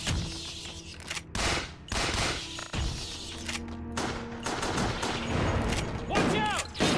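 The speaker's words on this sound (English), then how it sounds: "we're gonna use the shotgun" Shotgun blasts in the Resident Evil video game, loud sharp bursts repeating over busy in-game music and effects, with a voice talking at times.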